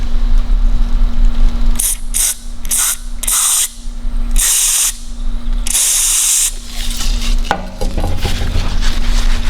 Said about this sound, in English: we want to spray some directly into the hole down in there.